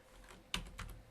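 Keys on a computer keyboard clatter in a few quick, close, quiet clicks, with one sharper tap followed by a short cluster.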